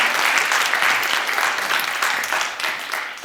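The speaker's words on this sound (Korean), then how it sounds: "여러분 큰 박수로 맞이해주시기 바랍니다" Loud, steady applause from an audience at a Korean customs-broker exam prep seminar, welcoming a trade-practice lecturer to the stage; dense clapping sustained throughout, with no talk over it.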